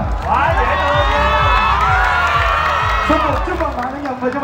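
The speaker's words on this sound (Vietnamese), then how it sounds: "vỗ tay nữa mà" Large outdoor crowd at a Lật Mặt 7 movie fan event on a walking street, cheering and clapping loudly and steadily, with shouts and whoops over the applause and music thumping underneath.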